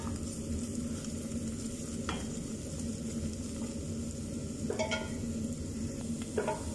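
Chopped onion frying in butter and a little oil for a chicken dish, a steady close sizzle with occasional stirring scrapes and light clinks of a spoon in the pan.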